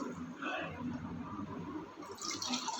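Water poured from a tumbler into a pot for biryani, a soft continuous trickling splash at close range with a brief brighter splash near the end.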